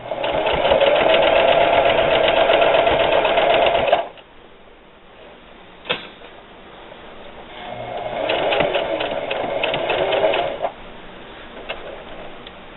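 A sewing machine stitches thick chenille fabric for pillow covers in loud steady runs. It stops for a quiet pause with a single click, then starts again. No voices are heard.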